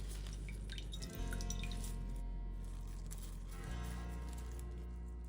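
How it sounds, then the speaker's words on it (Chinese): Water drips and trickles steadily from salted cabbage squeezed by hand, close by and soft over a low, continuous background hum. "你看，挤出来的水这么多。"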